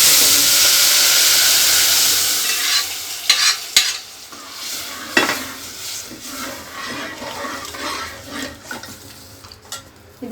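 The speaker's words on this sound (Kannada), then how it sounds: "ಒಗ್ಗರಣೆ ಹಾಕ್ಕೊಳ್ತೀನಿ." Dry chilies and curry leaves hit hot oil for a rasam tempering, a loud hissing sizzle bursting at first and then easing, followed by stirring clinks and scrapes against the pan.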